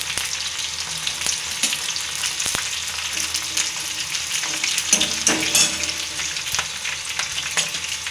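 Onions and green chilies frying in a pan, a loud, dense sizzle with intermittent stirring scrapes and clicks, close and steady throughout.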